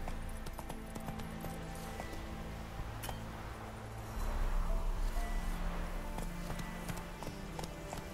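Roach, a horse in The Witcher 3 video game, trots along with steady clip-clop hoofbeats on the ground, moderately faint and rhythmic, with a low rumble swelling midway.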